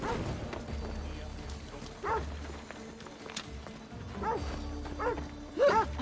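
A dog in Assassin's Creed Odyssey barks a few times, short yelps spaced out at moderate volume over game ambience, with someone speaking intermittently.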